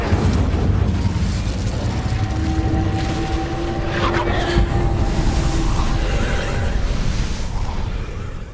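Fiery whooshing roar of the Incendio fire spell in Hogwarts Legacy, a loud sustained rumbling blaze with steady crackle throughout and faint tonal game hums beneath.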